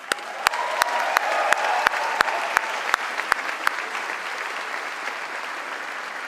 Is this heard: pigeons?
no